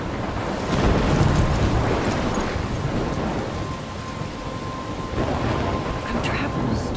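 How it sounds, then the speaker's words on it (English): A thunderstorm rages in the 2015 Xbox One game Life Is Strange, with loud rolling thunder rumbles over a heavy, continuous wash of rain and wind that surges and eases throughout. "I'm trapped in a storm."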